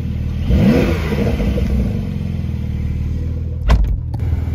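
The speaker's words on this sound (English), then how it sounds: "Here's what 640 horsepower sounds like." A 640-horsepower Porsche 911 Turbo S Coupe in Sport Plus mode gives one loud, close rev that swells and falls. A sharp burst near the end is followed by a steady idle rumble, with no talking.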